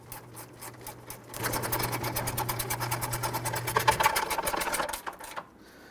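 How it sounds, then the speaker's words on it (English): A ratchet tightens the alternator bolts on a 2006-2012 Toyota RAV4 3.5L V6, giving rapid, evenly spaced clicks close by, slow at first and then a fast steady run before stopping. "You can use your regular ratchet or your gear wrench here."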